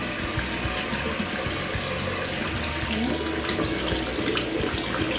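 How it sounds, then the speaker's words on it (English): Warm water runs steadily from a tap into a basin for cleaning makeup brushes, a continuous close splashing rush that grows slightly louder partway through. "We're just gonna add some"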